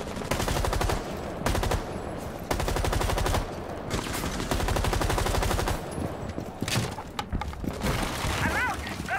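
Rapid automatic gunfire in the shooter Rainbow Six Siege, loud sustained bursts separated by brief pauses, with a voice speaking between bursts.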